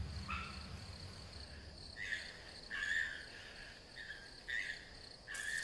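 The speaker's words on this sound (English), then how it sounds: "Some of the cicadas have reached their destination." Cicadas in a Korean forest give off faint, pulsing buzzes in repeated bursts, each starting and stopping against a quiet, hissy outdoor background.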